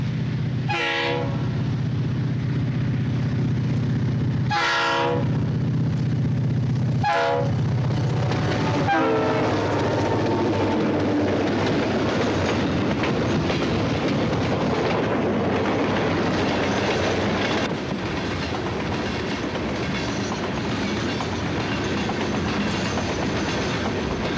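FEC diesel locomotives, a pair of GP9R units, sound three loud horn blasts before rolling past with a heavy, building engine rumble and rattling wheels that continue steadily to the end.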